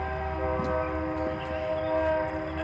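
A train rumbles past near a pond around Newark, its steady mechanical roar thick with sustained tonal whine and faint clanks, loud and close, with no talk over it.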